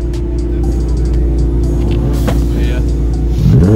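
Small engine on a tiller running steadily and loud, with harmonic hum and a rising rev near the end, as people talk over it.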